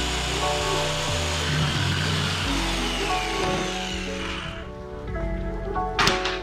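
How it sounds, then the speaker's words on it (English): A power saw bites through a sheet of plywood with a steady, loud, grinding whir that rises and falls as the blade moves, ending with a brief tapping of wood. "I line it up on a piece of plywood and cut it out to fit."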